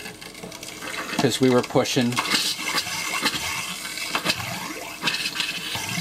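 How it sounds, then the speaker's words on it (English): Antifreeze and air sputter and gush from the cold-water faucet of a Passport 217 RV being winterized. The noise comes in uneven bursts and hisses close by, with someone talking over it. "I'm going to crack open the cold. Now here we may have some antifreeze come out"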